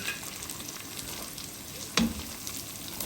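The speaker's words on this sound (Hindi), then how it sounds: "4 सब्ज़ मिर्चें कटी हुई वो इसमें शामिल करेंगे और थोड़ा सा फ्राई करेंगे" Four chopped green chillies fry in hot oil in a pan for a fried daal mash. A steady, moderate sizzle carries throughout, and a brief clatter breaks in about two-thirds of the way through.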